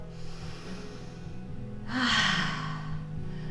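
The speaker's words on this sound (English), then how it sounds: "Last one, inhale." A single deep yoga inhale drawn through the nose, rising into a loud, breathy rush that lasts about a second before easing off, heard over a low steady background hum.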